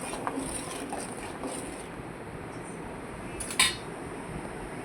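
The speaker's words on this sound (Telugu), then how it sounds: "ఇప్పుడు షుగర్ సిరప్ని ఒకసారి కలుపుకుందాం" Sugar syrup for bread halwa bubbles and hisses steadily in a pan while a spoon stirs it, with faint metallic clinks and one brief louder scrape near the end.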